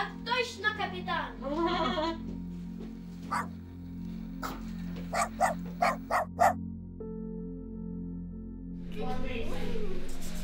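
A small dog barks in a short run of sharp yaps over steady background music, with people talking before and after.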